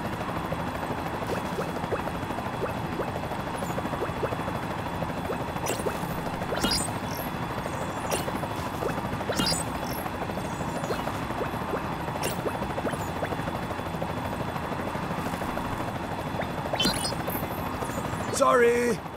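A helicopter in the LEGO The Incredibles video game whirs with a steady rotor drone that runs the whole time, while game characters talk over it.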